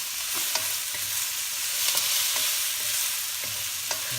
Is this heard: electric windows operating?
no